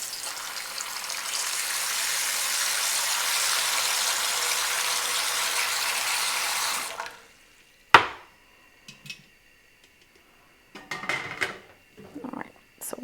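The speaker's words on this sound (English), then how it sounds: "I'm going to add a little water to this because it's been going for quite a while." Water is poured into a pot of simmering brine while canning pickled pearl onions, a steady rushing pour for several seconds, then a clank and a few scattered kitchen knocks and clatters.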